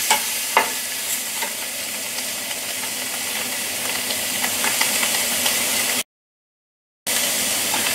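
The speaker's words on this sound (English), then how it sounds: "See, brown the scallop." Scallops sear in a hot pan with a steady, loud sizzle and hiss, a few clicks and stirring knocks early on, then a brief dropout before the frying resumes.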